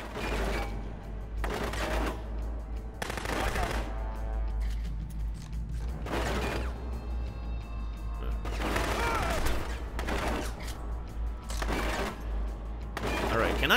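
Gunfire in the shooter game Rogue Warrior, with repeated bursts of automatic fire and sharp shots in clusters, loud and close, amid mechanical clanks and a low rumble.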